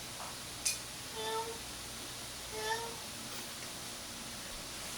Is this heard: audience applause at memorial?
no